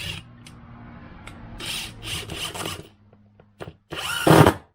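A Kobalt 24V quick change impact driver whirs and rattles in short bursts as its hammers engage, with brief pauses between runs and a louder final burst.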